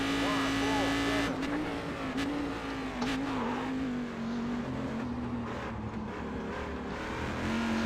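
Race car engine in the iRacing sim, a steady loud drone throughout with pitch dipping and rising through slow corners, under continuous talk.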